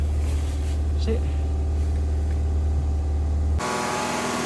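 A Volvo 850 engine held at about 2,000 rpm runs at a steady, elevated idle with a constant low drone, continuing unchanged before shifting in tone at the end.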